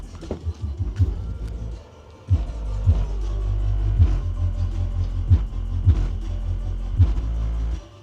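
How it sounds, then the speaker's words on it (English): Throbbing bass beats from a subwoofer play in the trunk of a 2024 Tesla Model 3 Long Range, loud and close, a regular pulse of low thumps with a faint buzzy rattle riding on each hit. "the subwoofers were a bit rattly, or something was rattling back here, and I can definitely hear it right now"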